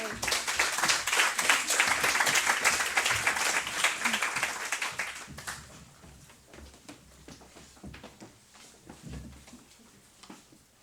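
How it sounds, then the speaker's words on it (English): A round of applause from the audience at a universal health coverage town hall, loud, dense clapping for the first five seconds, then thinning into scattered, fading claps with some background murmur. "Give all the groups a round of applause."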